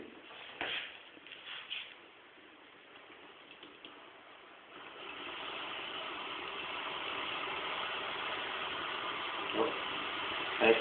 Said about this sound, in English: I'm gonna hook them now to the motor, and you will see it will go directly in spin.